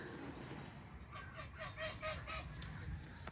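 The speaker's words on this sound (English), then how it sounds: "Those geese are so noisy." Geese honk repeatedly on a city farm, a cluster of calls at moderate distance over steady background rumble.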